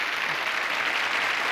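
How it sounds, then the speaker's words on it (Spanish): A studio audience on a television game show breaks into dense, steady applause, a brief burst of many clapping hands. "Un gran aplauso para él."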